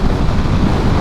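Strong wind buffets a motorcycle rider at speed on the road, a loud, steady roar of rushing air with no speech.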